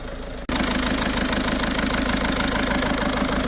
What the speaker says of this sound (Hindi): बहुत तगड़ा फॉल्ट है इंजन का